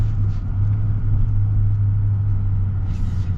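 A 2025 GMC Sierra 3500 Denali truck accelerates with a loud, steady low engine rumble heard from inside the cab, continuous throughout with no talking.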